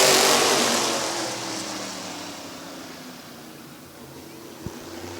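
A pack of race cars at Midvale Speedway takes the green flag for an 8-lap heat race, producing a loud engine roar that sweeps past and gradually fades into the distance, with a brief thump near the end.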